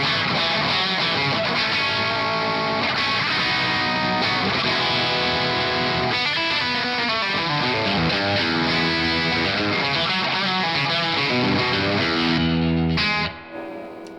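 An electric guitar through a mini Marshall Plexi amp with parallel distortion and reverb plays sustained, crunchy chords for about thirteen seconds, loud and continuous, then cuts off abruptly.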